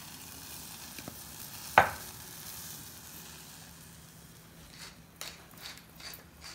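Tomato sauce made from tinned tomatoes, dried chilies and oregano simmering in olive oil in a pan gives a faint, steady low sizzle, broken by one sharp clack near the start and a few soft knocks later.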